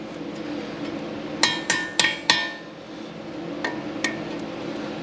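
Metal tools tap and clink sharply against a steering knuckle nut while a cotter pin is worked out on a 2006-2012 Ford Fusion or Lincoln MKZ/Zephyr, a cluster of four quick close strikes followed by two lighter ones.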